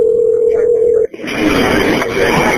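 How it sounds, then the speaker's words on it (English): A steady telephone dial tone hums for about a second, then cuts off abruptly and gives way to a louder, noisier line sound. "And then you're going to hear a dial tone in the phone ring."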